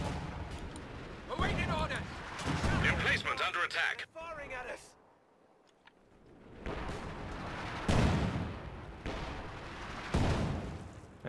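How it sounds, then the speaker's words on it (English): Infantry support guns in Company of Heroes 2 fire repeatedly at structures, giving heavy bursts of game gunfire and blasts that recur throughout, with a short lull in the middle and a commentator talking over them. "the infantry support guns are just continually peppering the structures"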